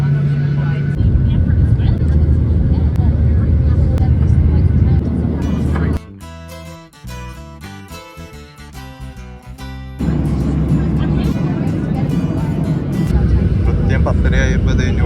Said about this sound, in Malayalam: ഇപ്പം തന്നെ ടേക്ക് ഓഫ് ചെയ്യുമായിരിക്കും.